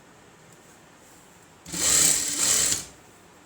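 A sewing machine stitches the lining of an Aari-work blouse in one loud burst of about a second, running steadily after a quiet lead-in.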